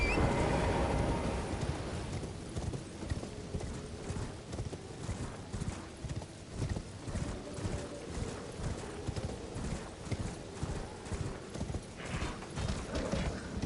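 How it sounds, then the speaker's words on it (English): A horse gallops in Elden Ring, its hoofbeats pounding in a fast even rhythm throughout, close and fairly loud, with rain-like background noise and no speech. "And get back on my horsey."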